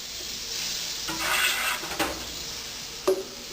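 A tablespoon of butter melts in a pan before fried rice is made, giving a steady soft sizzle with a few light scrapes and one sharp clink near the end, no talking.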